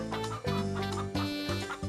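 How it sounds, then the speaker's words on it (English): Hungry chickens in The Hoobs PS1 video game cluck and squawk in quick repeated bursts, close and loud, with a synthetic tone and a rhythmic pattern. "If a chicken is hungry and needs more food, it will squawk."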